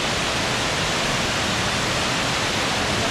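Indoor waterfall at the Falls Bar in the Gaylord Opryland Resort, a constant, loud, even rush of falling water filling the space without a break.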